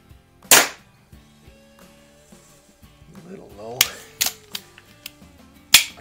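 A Baikal IZH-46M air pistol fires RWS Vogel pellets on a rainy night, giving a few sharp, close cracks, one early and a cluster later, with faint background sounds between them.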